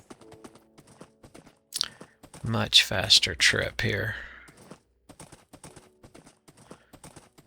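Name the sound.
horse hooves clip-clopping in the video game Minecraft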